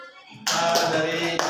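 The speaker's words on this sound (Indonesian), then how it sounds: "Tepuk tangan untuk" A classroom group discussion audience breaks into sudden clapping after a short quiet moment, the claps starting abruptly and continuing loud and close until the end.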